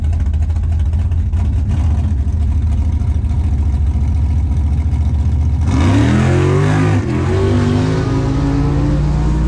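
A drag racing car launches down the track at a Redwood Rally drag-and-drive event after a burnout, the engine note rising loud and near over a steady rumble, then dipping briefly and resuming.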